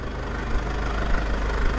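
A motorcycle engine runs steadily at close range, a loud continuous low rumble with a slight uneven throb and no talking over it.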